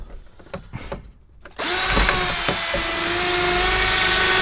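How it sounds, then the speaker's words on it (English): A few light knocks and taps, then a power drill whirs up loudly and keeps running steadily at close range. "I had John drill his ACL out."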